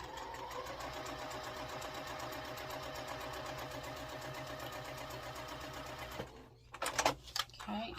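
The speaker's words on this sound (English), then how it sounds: "then just stitch right on that line." A sewing machine stitches a quilt block seam with a steady, fast mechanical whir and rapid needle clatter for several seconds, then stops, followed by a few soft handling knocks; a voice may be faintly present.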